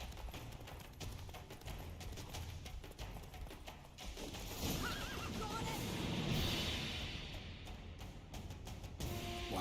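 Roach, Geralt's horse in The Witcher video game, whinnies loudly over steady clip-clopping hooves and game ambience, the neigh rising mid-clip.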